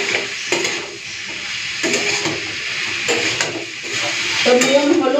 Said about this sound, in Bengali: 2-4 মিনিট এইভাবে আমি একটুখানি ভাজা ভাজা করে নিয়ে মাছের মাথাটা দিয়ে ঢাকা দিয়ে রান্না হতে দেবো।